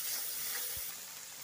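Masala spices fry in a pan with a soft, even hiss of sizzling and one dull low knock partway through, heard alone and fairly quiet.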